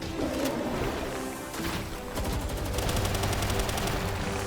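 Rapid gunfire in the video game Palworld, dense bursts of automatic shots with crashing impacts, loud and continuous, briefly easing before resuming even faster.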